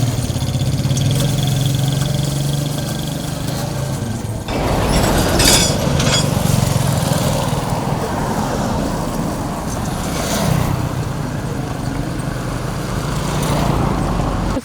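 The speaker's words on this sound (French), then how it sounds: "La jeune dame enfourche sa moto et direction le jardin" A motorcycle ridden by a young woman heading to a garden to pick amaranth leaves, its engine droning steadily throughout with a low rumble, rising and shifting in loudness with clinking rattles and road noise.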